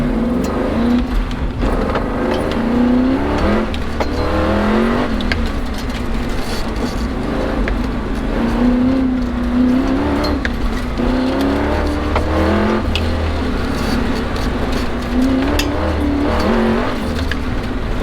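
A 1969 Camaro on an autocross course, its V8 engine loud and close, revving up and down in rapid surges through the gears, with tire squeal rising between shifts across the whole run.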